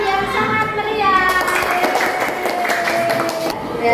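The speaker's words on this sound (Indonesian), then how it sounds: "kita tepuk tangan yang sangat meriah" In a classroom, children clap together in a lively burst of rapid, scattered claps lasting a couple of seconds, mixed with children's voices.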